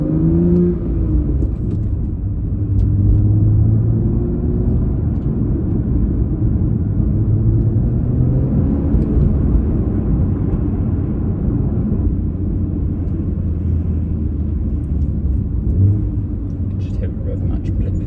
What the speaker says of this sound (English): Just hear the rev match blipping.